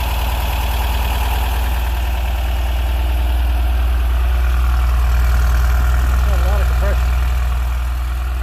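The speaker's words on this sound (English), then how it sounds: "Idling a little fast." A Porsche 914 engine idles a little fast, a steady, continuous low rumble with an even mechanical hum, close and loud, running alone throughout.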